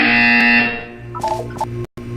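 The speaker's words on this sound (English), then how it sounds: "You will hear a buzzer." A Portal 2 buzzer sounds loudly for about half a second, then fades into quieter electronic tones and a short silence.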